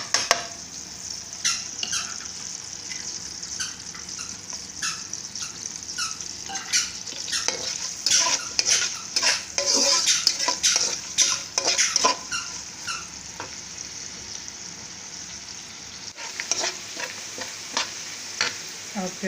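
Onions hiss in hot oil as they fry, while a ladle scrapes and taps the pan in frequent strokes and the sizzle swells and fades with the stirring, no voices present.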